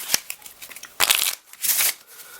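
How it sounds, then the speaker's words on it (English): Crisp riffling bursts of cards being shuffled, a few quick flutters followed by two longer, louder rushes, close up with no talking. "So if I say I shuffle it"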